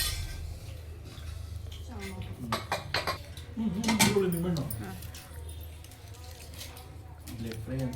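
A family meal at home, with dishes and cutlery clinking repeatedly at close range while several people talk over the table.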